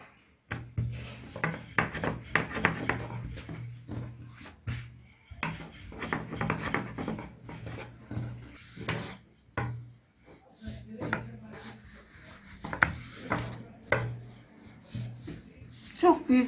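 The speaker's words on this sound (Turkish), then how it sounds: "İkinci bezemizi de açıyoruz." Rolling pin rolling out dough balls for börek, giving soft repeated rubbing and rasping strokes in a steady back-and-forth rhythm at close range, with faint occasional knocks and a voice talking quietly at times.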